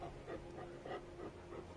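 A dog pants close by in a home, with short whining gasps in a steady, uneven rhythm and a faint tonal hum underneath.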